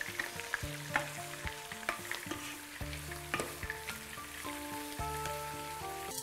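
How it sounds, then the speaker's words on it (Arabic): Beef and onions browning side by side in a hot pan for a mushroom cream roast, a steady close sizzle with frequent stirring scrapes and clinks of a utensil throughout. "ونخليهم كده على جنب على جنب كده يتحمروا في ناحية واللحمة بتتحمر في الناحية التانية"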